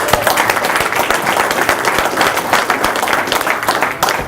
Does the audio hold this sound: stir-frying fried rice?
no